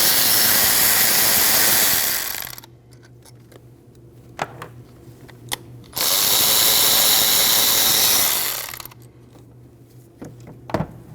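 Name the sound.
removing two 8mm bolts on Ford Escape ignition coil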